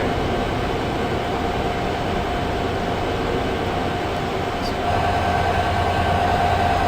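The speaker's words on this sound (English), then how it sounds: "This is the most luxurious commuter train in California." Simulated Surfliner commuter train running toward San Diego in the Open Rails train simulator, a constant dense rolling rumble with a steady hum that grows slightly louder near the end, no voices.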